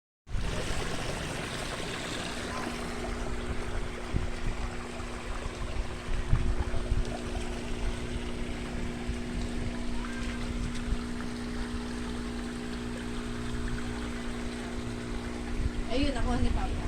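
An engine-driven pump runs steadily to fill a pond with water, a constant droning hum with rushing water noise underneath that stays even throughout.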